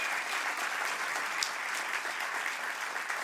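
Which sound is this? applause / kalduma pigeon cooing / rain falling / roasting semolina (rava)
applause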